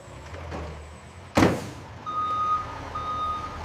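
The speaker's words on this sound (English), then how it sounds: "We use refrigerated trucks to maintain perfect temperature." A refrigerated delivery truck for an ice cream factory bangs once, then its reversing alarm sounds in two steady, moderately loud beeps over low engine rumble.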